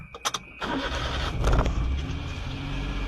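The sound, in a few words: car engine being started with the key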